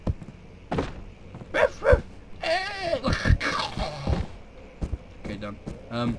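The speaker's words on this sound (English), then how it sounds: "Look, I can make the dog chase the rabbit." A dog chasing a rabbit in the horror video game Amnesia: The Dark Descent, with several sharp barks and a whining, moaning cry amid game thumps, while someone talks over parts of it.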